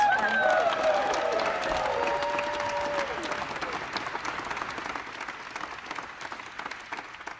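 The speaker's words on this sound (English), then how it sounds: "Another round of applause." A crowd at a Blue Origin post-flight press conference applauds the first New Shepard astronaut crew in a dense, steady burst that slowly fades, with a voice speaking over the start.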